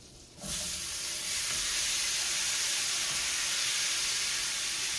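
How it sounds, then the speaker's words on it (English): Apples dropping into hot butter in a skillet set off a sudden loud, steady sizzle that keeps hissing evenly and close up with no talk over it. "I'm going to put my apples now into my skillet"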